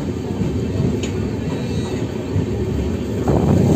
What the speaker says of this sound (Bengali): আমাদের ট্রেনটি এখন হুগলি জেলার কামারকুণ্ডু, সেই কামারকুণ্ডু স্টেশনে ঢুকছে ট্রেনটি।